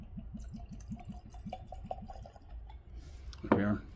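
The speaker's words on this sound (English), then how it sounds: "Let's go ahead and get this pour on." Bottled-in-bond Bardstown Origin Series bourbon glugs out of the bottle in a quick run of rhythmic pulses, fairly close and soft, ending with a brief louder splash.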